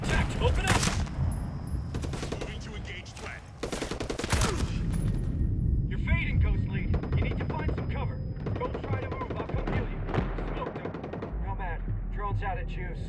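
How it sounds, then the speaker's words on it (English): Gunfire in the tactical shooter Ghost Recon Breakpoint: rapid bursts and overlapping automatic fire with sharp individual shots, loud and close, with squad voices speaking between the volleys. "Incoming sniper fire. Contact, open up."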